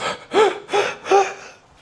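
A voice imitates a scuba diver's shallow, panicked breathing: three quick, loud gasping breaths in an even rhythm, close and alone.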